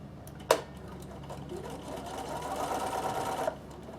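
A sewing machine stitches a beginner's Christmas table runner, opening with a sharp click and then running in one even, close burst of rapid stitching for about three seconds before stopping.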